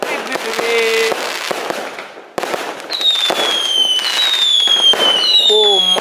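Firecrackers for a Deepavali celebration popping and crackling nonstop in dense, loud bursts, with high whistling tones sweeping through the barrage and voices faintly audible underneath.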